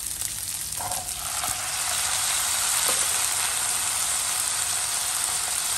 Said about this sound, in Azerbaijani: Bir-iki dəqiqədən əti bir yerlikdə qovuruyoruz.